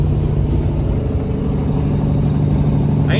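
A new Detroit diesel truck engine rated at 430 horsepower runs in cold, snowy conditions, giving a loud, steady, close rumble with a low drone throughout and no voices.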